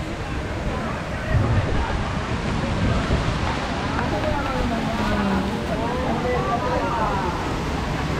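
Taytay Falls in Majayjay, Laguna, a waterfall giving a steady broadband roar of rushing water with wind buffeting the microphone, loud and constant.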